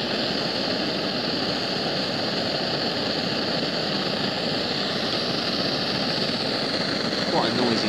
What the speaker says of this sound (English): Quite a noisy little gas stove, but then I guess they all are, aren't they, really?